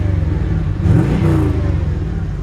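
A 1968 Chevrolet Corvette, first-year C3 body, revs its engine through a brand-new exhaust, a steady deep rumble that swells into a louder rev midway before settling back, close and alone with no talking.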